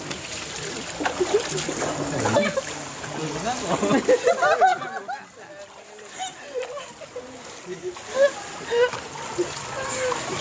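Water splashes and sloshes as people bathe in a hot spring at Batu Sangkar, Padang Gantiang, at night, irregular close splashes mixed with lively chatter and voices throughout.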